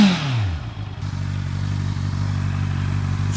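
A 2024 Honda CBR650R E-Clutch sport bike with an underslung exhaust idles close by, a steady low throbbing engine note that holds evenly throughout with no talking.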